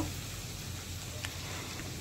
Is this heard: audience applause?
no